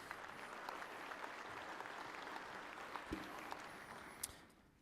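Banquet audience applauds union contractors at a student awards dinner, a steady, moderately quiet wash of clapping with a few sharper claps standing out before it fades at the end.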